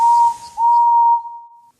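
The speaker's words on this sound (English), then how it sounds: "He reached a signal box and stopped, whistling for a road." Steam locomotive whistle in the Trainz railway simulator, a single clear, close whistle blast, briefly dipping and then holding steady before cutting off.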